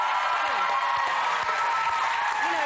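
A studio audience at a TV talent show applauds loudly and steadily throughout, with a voice faintly audible beneath the clapping.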